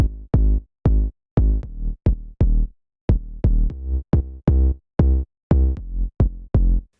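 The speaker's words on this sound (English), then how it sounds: "I really love this sub bass because it's really gritty" Gritty synth sub bass from an electronic dance drop, playing a run of short, punchy, evenly spaced notes with buzzy harmonics, loud and alone without any talk.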